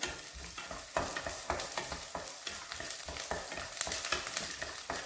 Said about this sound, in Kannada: ಎಗ್ ಫ್ರೈ ಆಗ್ತಾ ಇದ್ದಂಗೆ ಅದು ಸುಟ್ಕೊಳುತ್ತೆ